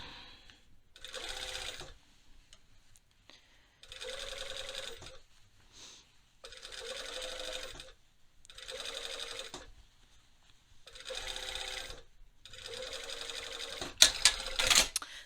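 A sewing machine understitching fabric runs in repeated short bursts of rapid stitching, about six runs separated by brief pauses, close and clear.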